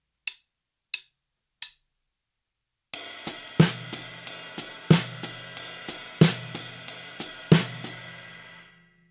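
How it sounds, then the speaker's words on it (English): A drum kit ostinato in 4/4 with the hi-hat on the offbeats: three soft clicks count it in, then a steady, close groove of crisp hi-hat strikes and punchy kick and snare hits repeating alone for several bars before the ring fades. "So now we have the hi-hat on the offbeats in a bar of 4-4."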